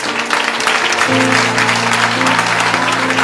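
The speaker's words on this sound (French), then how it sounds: "Acclamez pour monsieur le mari." Church audience at a prophetic gathering applauding for a husband called up front, a loud, dense burst of clapping, with a sustained tonal drone or music under it.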